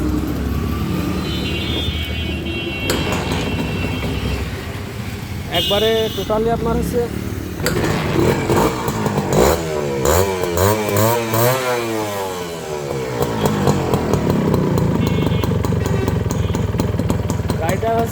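A Honda CDI 100 motorcycle with its original Japanese carburetor is kicked and started, then runs with a loud, rattly single-cylinder idle and rising revs, close up, while someone talks over it.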